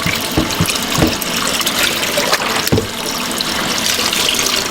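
Cold tap water runs steadily into a kitchen sink, a loud close gushing stream with a few splashy knocks as items are handled under it.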